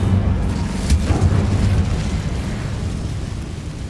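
An Incendio fire spell in Hogwarts Legacy lets out a loud, sustained rushing roar of flame with a dense low rumble that holds steady for a few seconds, then slowly eases.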